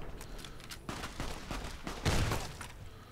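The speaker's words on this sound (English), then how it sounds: "Oh god, I'm being shot." Gunfire in Fallout New Vegas, a flurry of sharp cracks and bursts at moderate loudness, clustered shots with one heavier blast near the end, heard without talk over it.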